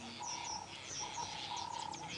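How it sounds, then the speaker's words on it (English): A southern black tit calls on an early-morning safari drive in the Sabi Sand, South Africa, giving repeated high chirps and short whistled notes, faint against a soft outdoor background. "Here's a little southern black tit"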